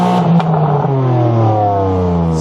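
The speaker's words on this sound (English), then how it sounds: "Another rev, please." A BMW M car's engine revs hard and steadily, a loud sustained climbing roar with rising harmonics close by, with no talk over it.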